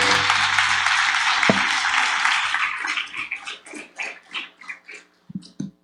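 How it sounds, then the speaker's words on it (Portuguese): Church congregation giving loud, dense applause that thins into a few scattered claps and then trails off. "Vamos recebê-lo então, aplaudindo ao Senhor Jesus bem forte."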